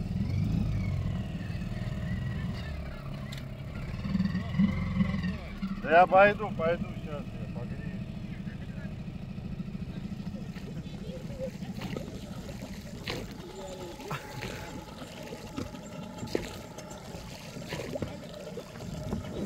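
A motorboat engine idles and warms up on a fishing trip, a steady low rumble throughout with a brief revving burst partway, while people talk nearby.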